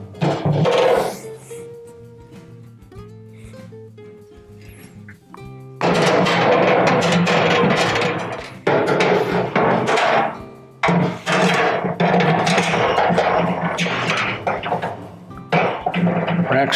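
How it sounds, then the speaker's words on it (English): Metal grill grates set into a Pit Boss Pro Series combo grill during assembly, heard as a run of loud clanks, scrapes and rattles in bursts, close by, with a quieter stretch before the first impacts. "Grates go in."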